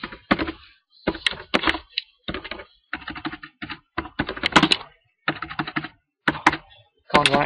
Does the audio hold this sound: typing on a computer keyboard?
yes